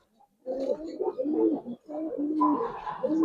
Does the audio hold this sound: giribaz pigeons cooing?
yes